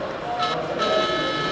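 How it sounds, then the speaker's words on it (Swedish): A locomotive horn toots on a heritage railway where a railbus runs, sounding as a steady tonal blare under a rumbling, noisy background. "Vill man ha koll på loket, då kan man ju tuta"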